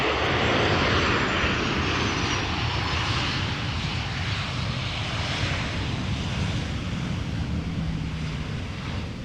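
An airliner arriving on the Polder Runway at Amsterdam Schiphol roars loudly and continuously, a broad steady jet rush that slowly eases off, with no voices.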